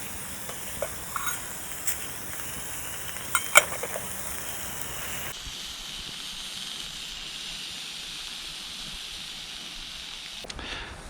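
A camping stove hisses steadily while heating water for a dehydrated chicken curry on a bikepacking trip, a soft close roar with a few faint clinks, then the hiss drops to a quieter background.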